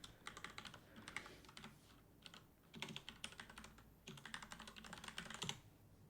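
Close, quiet typing on a computer keyboard, with rapid clusters of key clicks in irregular bursts separated by short pauses.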